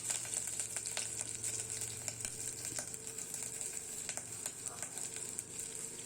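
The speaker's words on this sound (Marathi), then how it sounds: "कुकरमध्ये तेल घातलं आहे, जिरं घातलं आणि आता सोलून घेतलेला आलं आणि हळद घालणार आहे।" Ginger and turmeric going into hot oil with cumin in a pressure cooker, giving a faint, continuous sizzle with light crackles throughout and a low hum underneath.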